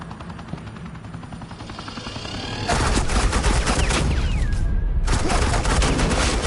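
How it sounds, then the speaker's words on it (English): Sustained suppressing gunfire in the video game Batman The Enemy Within, a dense continuous fusillade that swells in loudly after a quieter ambient lead-in and keeps rattling with brief dips. "suppressing fire"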